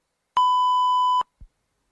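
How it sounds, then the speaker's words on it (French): A single steady electronic voicemail beep lasting just under a second, clean and loud, followed by a brief low thump and then silence. "envoyez un message après le bip"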